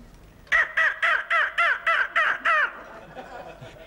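A voice imitates a black-headed gull's mating call: eight loud, harsh, evenly spaced squawking cries in quick succession, then a brief softer trailing sound.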